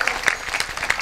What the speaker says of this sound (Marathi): त्या महाराजांसाठी सुद्धा एकदा जोरात टाळी वाजवा